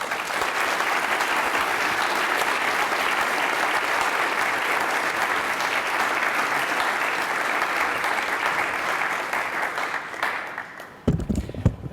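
Audience applause in a lecture hall greeting speaker Patrick Deneen, a dense, steady ovation of many clapping hands lasting about eleven seconds before fading abruptly.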